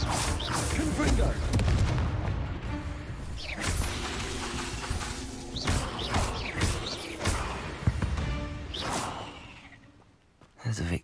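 Booming explosive blasts of the Confringo spell in Hogwarts Legacy, several heavy bursts among whooshes and combat noise, with a voice calling out spells throughout.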